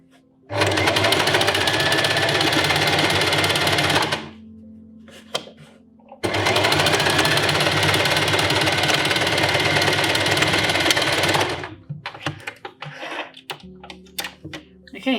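A sewing machine runs in two long steady bursts of rapid stitching, close and loud, sewing a French seam, with brief pauses and handling noise between and after.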